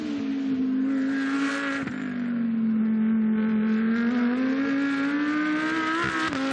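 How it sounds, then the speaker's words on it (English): A GT2 race car at Paul Ricard roars past during the race, a loud sustained engine drone with shifting pitch and a brief gearshift break, heard alone without commentary. "Here is the lead car then."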